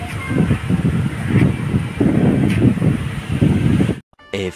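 Strong wind buffets outdoors in a rural province, rumbling loud and close with gusty surges that hit the microphone, then cuts off abruptly near the end.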